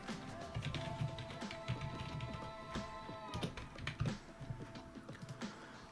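Someone types on a computer keyboard while setting up a Windows NT Server 4.0 system, giving quick irregular clusters of close key clicks and taps over a faint background hum.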